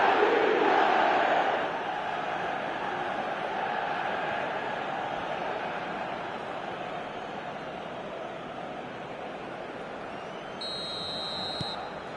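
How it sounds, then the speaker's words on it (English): A football stadium crowd in the eFootball video game roars in reaction to play, a loud swell at first that settles into a sustained, dense crowd rumble with a brief electronic tone near the end. "the crowd are reacting to that now"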